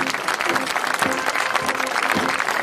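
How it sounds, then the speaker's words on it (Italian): A crowd at a military lance carousel in Montebello della Battaglia applauds the army band, steady moderate clapping spread through a large outdoor audience, with a faint voice underneath. "Salutiamo con un applauso anche la fanfara."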